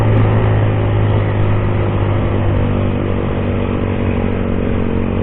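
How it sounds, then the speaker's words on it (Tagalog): Loud, steady engine roar of a group of big bike motorcycles dominates throughout on Marilaque highway before dawn, a dense continuous rumble with no pauses or talk. "Ang iingay ng mga motor nila."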